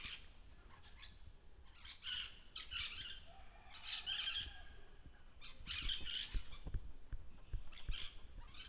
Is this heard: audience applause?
no